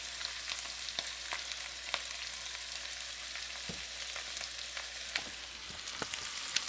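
Chicken garlic butter fried rice sizzles steadily in a pan as it is stirred, with a constant hiss of frying broken by soft scrapes and clicks of the utensil.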